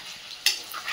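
Onions fry in a pan with a soft, steady sizzle, broken by one brief louder hiss as they are stirred, close and without voices.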